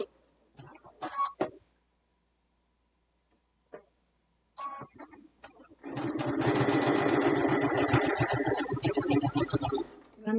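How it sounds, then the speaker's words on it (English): A sewing machine stitches binding fabric onto a small scissor keep, running in a fast, steady mechanical rattle for several seconds after a few quiet clicks and pauses. "I'm going to stitch off right onto my binding, just my binding."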